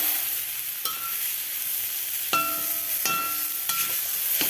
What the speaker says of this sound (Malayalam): ഇനി ഒരു കുറച്ച് സമയം ഇളക്കി കൊടുക്കണം.